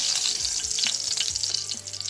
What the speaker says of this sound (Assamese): এতিয়া কলফুল কেইটা আমি ৰঙচুৱাকে